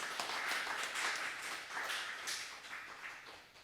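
A church congregation at a Sunday worship service in Cheongju claps together in a steady, dense patter of many hands, moderately distant and continuing throughout before easing slightly at the end.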